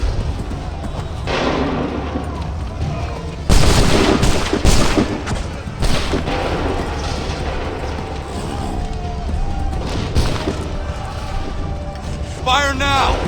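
Volleys of musket fire in a colonial-era battle in Assassin's Creed III, loud sharp cracks and thumps bursting in clusters amid shouted commands and battle noise.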